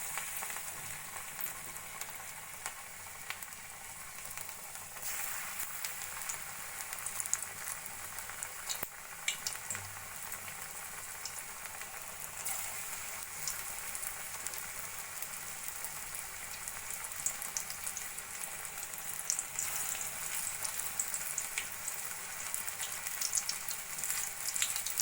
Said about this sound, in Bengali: এবার আমি ছোট ছোট করে ধনেপাতার পকোড়াগুলো ভেজে নেব।